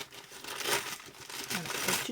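Wrapping paper is ripped from a gift in a few close crinkling, tearing bursts, loud and uneven, with a little faint talk underneath.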